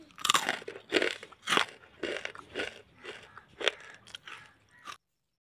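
Close, crisp crunching of bread caramel popcorn being bitten and chewed, about a dozen distinct crunches in an uneven rhythm, then silence.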